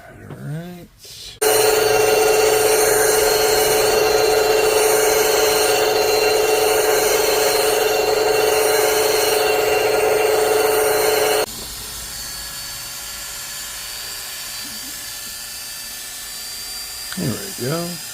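A clipper blade sharpening machine for dog grooming blades runs with a loud, steady, high-pitched whine for about ten seconds, then settles into a quieter grinding hum. A voice is heard briefly before and after.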